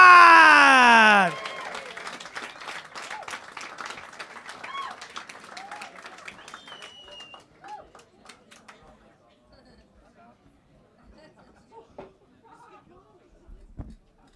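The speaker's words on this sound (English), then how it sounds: "Start clapping one more time. And cheer for the one and only Alex Maureen," Comedy club audience bursts into clapping and cheers for a stand-up comedian, starting over a loud amplified announcer's voice, then sustained dense applause that thins out into scattered claps and murmurs.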